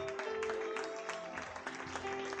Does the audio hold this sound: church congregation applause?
yes